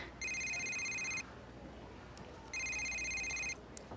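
A telephone rings in two electronic bursts of about a second each, separated by a pause, clear and fairly close against a quiet indoor background.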